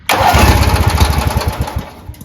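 A Ford YT16 lawn tractor engine cranks and catches, running loud and rough with a steady chugging pulse that sputters and fades toward the end, no voices over it.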